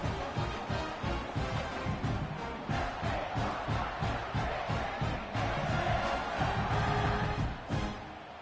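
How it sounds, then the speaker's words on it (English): A stadium crowd at a football game buzzes and roars after a score, a dense, steady wash of cheering and shouting with rhythmic swells, heard from within the stands. "this crowd is buzzing after that last score"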